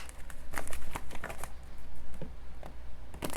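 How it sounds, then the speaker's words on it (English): A deck of playing cards shuffled during a card reading, a quick run of crisp papery clicks and flutters in uneven bursts, close by, with no voices. "You just shuffled them cards."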